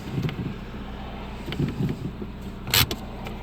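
A Kia Soul idles quietly after an engine replacement, a low steady hum with a few soft clunks and a sharp click near the end, no voices.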